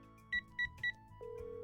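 Phone dialing in a visual novel game: three short electronic keypad beeps in quick succession, then a steady ringing tone begins, all alone with no talk.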